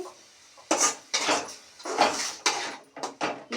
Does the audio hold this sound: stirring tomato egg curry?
yes